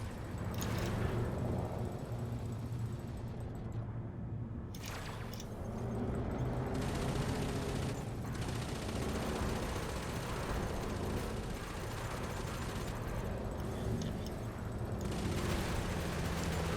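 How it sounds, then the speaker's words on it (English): Multi-cannons on a Python ship in Elite: Dangerous space combat fire rapidly and without letup, a dense, roaring stream of shots with only brief dips, loud and up close. "That's the good thing about having the multi-cannons on board as well. They can keep firing."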